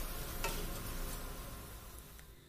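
Ginger garlic paste fries in a pan for Telangana bagara rice, a steady close sizzle that runs unbroken with a few faint crackles and no voices.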